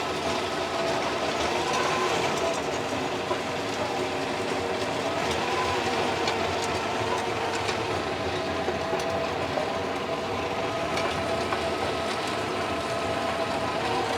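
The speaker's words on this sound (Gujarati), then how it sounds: "ઓકે વિરાજભાઈ, આપણે બધી પ્રકારના ઇમ્પ્લિમેન્ટ આપણે ટ્રેક્ટરની અંદર આપણે હલાવીને જોઈ લીધા છે." An electric mini tractor pulls a tillage implement through a dusty field, breaking up large clods with a steady, loud rattling mechanical drone that continues unbroken and without talk.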